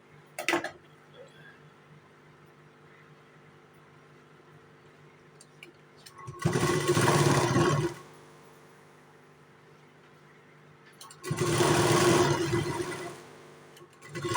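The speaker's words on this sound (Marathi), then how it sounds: "सिंगल शिलाई मारून दाखवते, तुम्ही प्रत्येक पार्टला डबल शिलाई मारा" A sewing machine stitches a blouse in two bursts of rapid whirring, each lasting about a second and a half, separated by quiet pauses with a faint click at the start.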